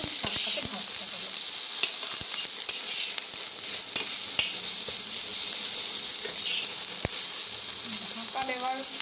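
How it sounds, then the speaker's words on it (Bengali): Leafy greens with turmeric stirred and fried in plenty of oil, a loud continuous sizzle close by with occasional clicks and scrapes from the spoon. "এবার এটাকে ভালো করে নাড়াতে হবে এবং শাকটাকে ভাজতে হবে।"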